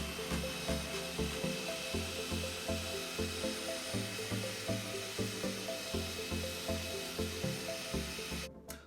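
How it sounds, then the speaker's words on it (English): A cotton buffing wheel polishes compound off a valve cover, giving a steady, loud whirring drone with a pulsing rhythm that runs throughout and cuts off abruptly at the end. "I'll go ahead and use my cotton buffing wheel to polish off that compound"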